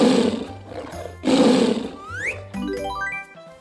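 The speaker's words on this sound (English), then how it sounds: "Tiger!" A tiger gives two loud, close, rasping roars, each about a second long. Bright rising tonal chimes and jingling sounds follow the roars. No talking is heard.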